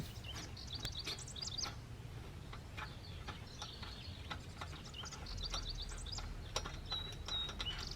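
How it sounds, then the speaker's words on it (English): Ratcheting clicks from a 19 mm hex socket wrench loosening the mower blade bolt on a John Deere Z335E lawn tractor deck, in repeated bursts over a steady low outdoor hum with faint birdsong in the background. "And we'll use a 19 millimeter socket."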